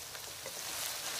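Cauliflower dropped into mutton frying in a pan gives a steady, close sizzle of hot oil and moisture that rises slightly toward the end, with no talking.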